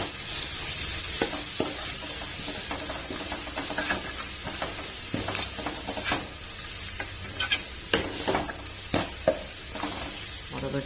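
High protein curry with browned onions, turmeric and salt stirred in a pan, producing a steady low sizzle under scattered scraping and tapping strokes from the spoon, close and moderate with no voices.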